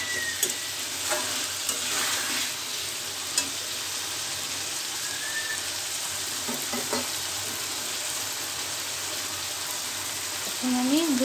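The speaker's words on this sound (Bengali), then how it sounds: "দেখুন আমার মশলাটা আলুটা এবং পটলটা খুব ভালোভাবে কষে গিয়েছে।" Spices, potato and pointed gourd frying together in a pan for a Bengali rohu fish curry, giving a dense, continuous sizzle like steady rain, close and even throughout, with a brief tonal clink near the end.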